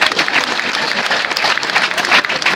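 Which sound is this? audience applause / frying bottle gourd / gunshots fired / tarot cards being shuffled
audience applause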